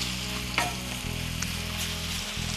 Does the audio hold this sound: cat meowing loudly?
no